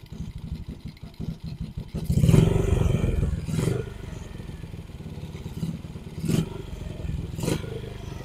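A motorcycle engine fitted with a TTGR full-wave charger idles steadily with a continuous low rumble, joined after a couple of seconds by louder clattering knocks and a few sharp metallic scrapes at intervals.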